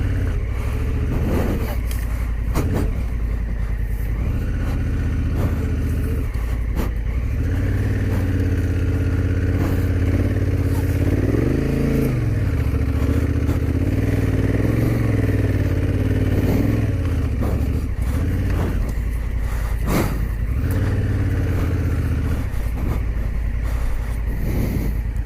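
A Honda Africa Twin, a big adventure motorcycle, grinds through deep sand with a steady mid-pitched engine drone that rises and falls as the throttle works, loud and continuous, with a few brief bursts of rider speech.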